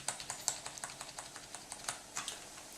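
Keys pressed one after another on a Memteq QWERTY gaming keyboard, a quiet run of sharp clicks in an uneven rhythm with a few louder strikes, close and without talk.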